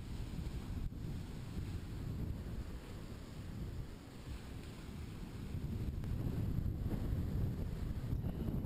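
Strong side wind buffeting a microphone on a beach during surf fishing, a continuous loud low rumble with the wash of surf beneath it, steady throughout and swelling slightly toward the end.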